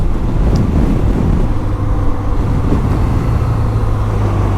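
A BMW R 12 G/S motorcycle engine drones low and loud while being ridden, a steady rumble mixed with wind buffeting on the microphone, with no speech.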